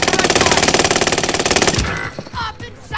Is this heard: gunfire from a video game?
yes